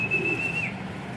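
A racing pigeon during a training toss gives a single short, high whistling call that glides briefly, close by, over a low murmur of background noise.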